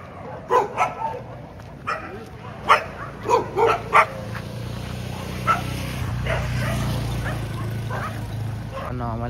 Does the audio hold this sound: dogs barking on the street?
yes